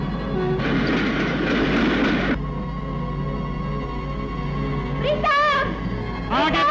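An oncoming train in a 1971 Hindi film scene, a steady rumbling rail roar with clattering wagons, loud and continuous, while voices speak over it and a brief rising whistle-like tone cuts in near the end.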